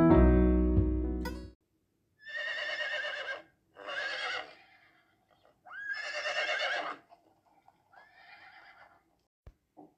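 A horse whinnies loudly and close by, four neighs in quick succession with short gaps between them and no talk. A brief loud tonal burst comes just before the first neigh.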